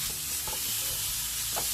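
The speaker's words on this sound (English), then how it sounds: "stir fry the squid without oil to remove the moisture" Squid stir-fried in a hot dry pan with no oil, loud, close and continuous sizzling and hissing with a few scraping stirs, no voices.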